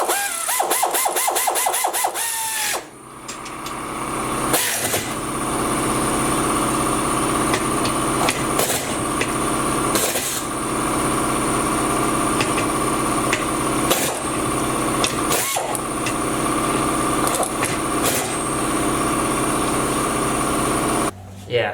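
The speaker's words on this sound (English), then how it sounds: "So the air compressor might kick on because this thing uses a lot of air" An air compressor runs with a steady loud mechanical drone that holds throughout. Sharp clacks and bangs repeat over it, and there are a few quiet gaps.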